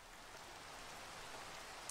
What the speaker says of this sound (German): es regnet trotzdem